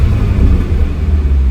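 A Mini with a Bootmod3 stage 1 tune and stock downpipe rumbles deep and low, heard from inside the car, a steady throaty exhaust drone with slight fluctuations and no talking.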